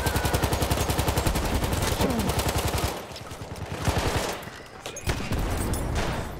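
Hellriegel submachine gun firing in Battlefield 1, a fast, sustained automatic burst with closely spaced rounds, loud and near, then a short pause before further bursts and scattered distant battle gunfire.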